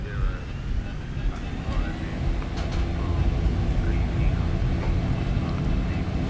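A Boeing 737-800 spooling up its engines for takeoff from runway 24 in a VR flight simulator, a broad rising roar that grows louder and steadier.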